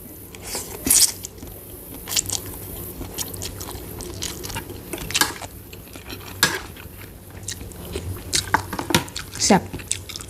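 Someone bites into and chews crunchy raw shrimp papaya salad, the shrimp soaked in beer to crisp them, with irregular wet crunches and smacks close to the mic over faint background noise and occasional utensil clinks.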